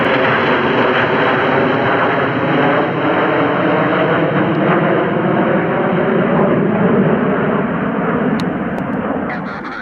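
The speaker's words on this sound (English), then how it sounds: "we got some beautiful approach shots of these fantastic F-15s from Lake Heath" F-15 fighter jets on approach near Lakenheath produce a loud, steady jet roar that holds at full strength for about ten seconds before easing slightly at the end.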